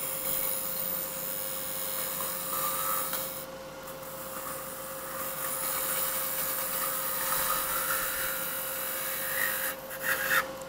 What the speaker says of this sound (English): Now I'm going to turn this a tenon so I can match my chuck.